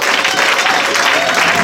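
Church congregation applauding loudly, a dense, steady wash of clapping with no pauses throughout.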